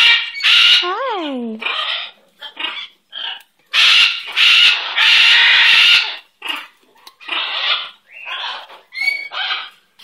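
A pet bird calls loudly and close up in a series of raspy, squawking bursts of varying length, with one rising-falling whistled note among them.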